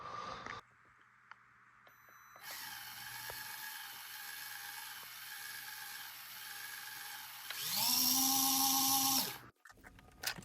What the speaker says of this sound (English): I believe you got to take these 4 screws out